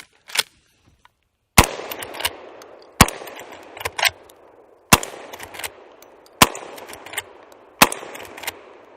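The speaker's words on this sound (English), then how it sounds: "Let's put some shots on steel." Six sharp shotgun blasts from a Henry X lever action shotgun firing 7-shot loads at steel targets boom outdoors at steady intervals of about one and a half seconds. Each report is loud and close, with a short ringing decay between shots and a faint metallic clack.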